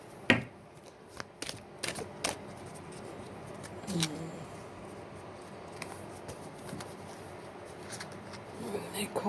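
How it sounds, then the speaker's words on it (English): Large oracle cards shuffled by hand in a quiet room, giving a series of soft papery riffles and taps with a few sharper clicks, fairly close and faint. "Shuffle again."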